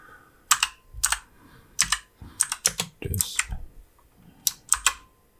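Fingers type on a QWERTY computer keyboard in quick bursts of crisp key clicks with short pauses between, close and clear, with no talk over it.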